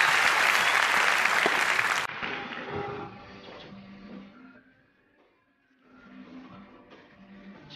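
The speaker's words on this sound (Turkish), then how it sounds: "Alkış tutuyor lütfen." A loud burst of audience clapping at the Turkish talent show Yetenek Sizsiniz Türkiye lasts about two seconds, then cuts off abruptly into quieter, sparse stage noise that fades almost to silence before picking up faintly again.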